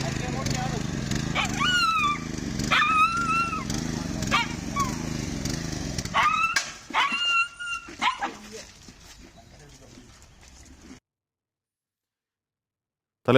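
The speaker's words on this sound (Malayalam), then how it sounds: "പത്തനംതിട്ട അടൂർ കണ്ണങ്കോട് ക്രിസ്ത്യൻ പള്ളിയുടെ ഓഡിറ്റോറിയത്തിന്റെ ഗേറ്റിനിടയിൽ നായ കുടുങ്ങി." A dog trapped between the bars of a church auditorium gate in Adoor, Pathanamthitta, whimpers and yelps in repeated high cries over a steady background hum, then quiets to faint noises before silence.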